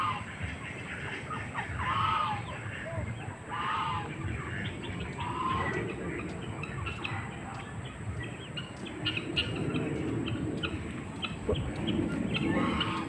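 Turkeys scatter and run in an outdoor riverside park, giving a few scattered clucks and gobbling calls over rustling movement and faint background ambience at moderate distance.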